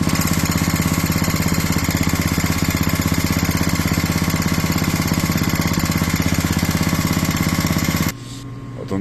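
Small snow thrower engine running steadily at close range with a fast, even mechanical ticking through its drone, then abruptly cut off near the end.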